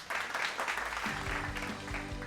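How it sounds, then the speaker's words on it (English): Audience applause welcoming an award recipient at an education awards ceremony, steady clapping with a bright, sustained musical tone rising underneath partway through. "Please make some noise and welcome him with a round of applause, Mr. Rajiv Garg."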